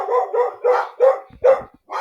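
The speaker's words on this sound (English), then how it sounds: "dogs found someone." Dogs bark in a rapid series of about six sharp barks over two seconds, close and fairly loud, with a low thump mid-sequence and no talking.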